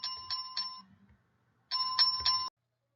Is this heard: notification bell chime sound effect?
yes